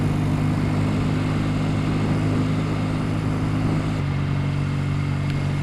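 A Norton 650SS motorcycle, an old four-speed machine, cruises in top gear with a loud, steady engine drone and constant wind roar close by, holding an even pitch with a slight shift in tone near the end.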